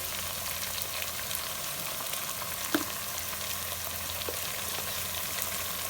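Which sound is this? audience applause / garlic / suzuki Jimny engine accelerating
garlic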